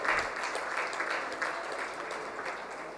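An audience at a blood donor honour ceremony in a New Delhi hotel hall claps steadily, a dense, even wash of applause from many hands that carries on throughout.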